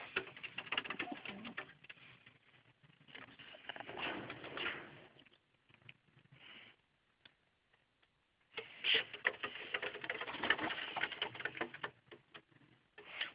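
Pigeons coo in a rooftop pigeon loft, forming soft, steady bursts of cooing and rustling with a quiet pause in between.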